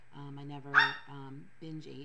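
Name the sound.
dog barking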